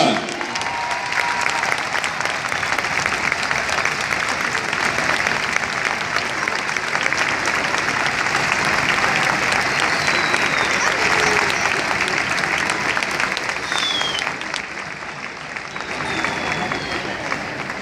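Sustained applause from a large football stadium crowd honouring a youth team, steady and loud throughout with a slight dip near the end.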